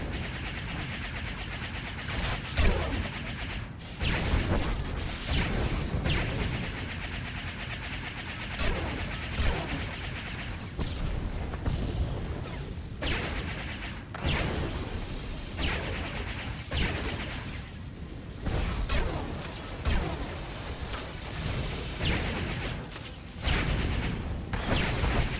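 Space combat in Star Wars: The Old Republic, with dense, continuous blaster gunfire and explosions filling the whole stretch, loud and close, volleys rising and falling without a break.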